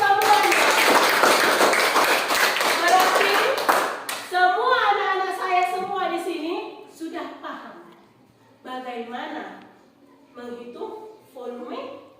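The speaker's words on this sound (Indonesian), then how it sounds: "tepuk tangan untuk kita" A group of children in a classroom clap their hands together, a dense burst of clapping for about four seconds, followed by a voice speaking with pauses.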